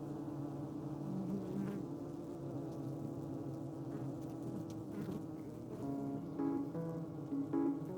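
Honey bees swarm around a hive built inside a wall in the Florida Keys, giving a steady, dense buzzing drone that holds throughout at moderate distance, with no voices.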